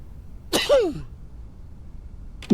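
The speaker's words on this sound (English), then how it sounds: "he's sneezing" A character sneezing in the video game Quarantine Zone, one close, loud sneeze with a bright burst and a falling tail, followed by another sharp onset at the very end.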